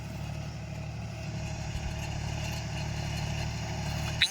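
A John Deere 45 HP tractor pulls a two-bottom hydraulic reversible plough through hard soil, its engine a steady, close, low throbbing drone that runs throughout without talk.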